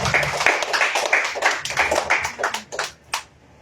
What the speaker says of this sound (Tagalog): Ay palakpak ninyo sa Lord